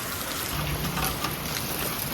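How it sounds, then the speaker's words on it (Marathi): Heavy rain pours down steadily in a dense, loud hiss with no letup, close and enveloping, during a Pandharpur pilgrimage procession. "असं घाण पाऊस पडतोय आणि इथे सगळं भरलेलं आहे."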